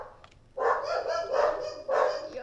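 Dogs barking nearby, a few loud sharp barks in an irregular burst of three or four, following a faint squeak, with no talk over them.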